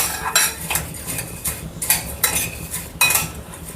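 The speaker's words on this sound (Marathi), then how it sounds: "याला चांगलं थोडंसं भाजलं की चांगला सुगंध येतो मग तर सुगंध येईपर्यंत असं तसं भाजून घे" Whole sambar masala spices are dry roasted in a pan, with a spoon scraping and clinking against the metal in repeated strokes, close and distinct, with no talk.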